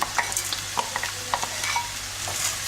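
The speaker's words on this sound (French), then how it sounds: "On va y rajouter le riz arborio, donc il y a 250 grammes. Donc vous le versez directement" Arborio rice being added to a pan of cooking onion for a gorgonzola and pistachio risotto, giving soft sizzling with scattered light stirring clicks and grain patters, close and fairly quiet, with no talking.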